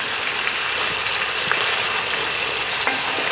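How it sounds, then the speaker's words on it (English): Vegetables and onions frying in a cast iron pan for Southern beef goulash, giving a loud, dense, continuous sizzle close up with a few faint stirring clicks, and no voices. "Now we're just going to cook down these veggies and get some flavor out of them."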